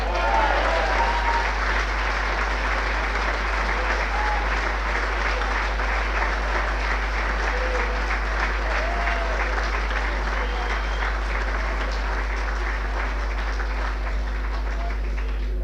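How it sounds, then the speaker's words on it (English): Sustained applause from a large audience at a 1999 St Joseph's Doora-Barefield celebration dinner, dense steady clapping filling the room for the whole stretch, with a few voices and cheers mixed in. "So I'd like to all give you a round of applause for the brilliant David Honan."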